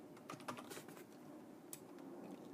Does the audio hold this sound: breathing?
no